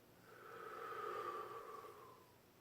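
A single slow exhale during a guided breathing exercise, a soft, close breath that swells and fades over about two seconds with a faint hum, quiet overall.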